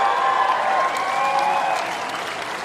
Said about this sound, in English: the warmest applause for the two players, John Isner and Isner Mahut.